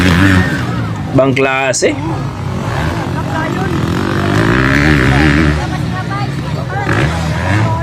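A 250cc motorcycle engine revs at a race in Midsayap, North Cotabato, a loud wavering drone that rises and falls close by. A crowd murmurs and someone speaks over it.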